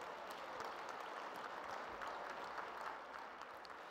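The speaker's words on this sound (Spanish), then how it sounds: "vamos a recibirlos con un aplauso fuerte como se merecen" An audience at a panel event gives steady applause, a dense wash of many hands clapping throughout, with no speech over it.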